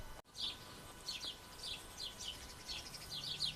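Faint, high chirps from birds in a cherry orchard repeat in short bursts over a quiet outdoor background, with no one talking.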